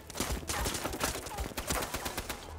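Dense gunfire from the war film Shershaah: rapid, overlapping bursts of shots and explosive cracks form a loud, continuous barrage that runs throughout.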